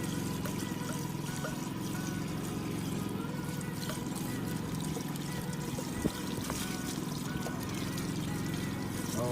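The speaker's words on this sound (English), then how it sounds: "now we're gonna be adding the water" Water is poured into a portable RV washing machine, a continuous steady splashing and trickling under a low hum that stays at a constant moderate level, with a single brief knock partway through.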